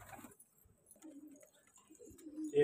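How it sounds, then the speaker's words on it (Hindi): Breeding racer pigeons in a cage giving soft, low coos in short separate bursts, close but quiet, with near silence between calls. "और इस पिंजरे में हैं जी रेस्टर कबूतर हैं, ब्रीडिंग वाले।"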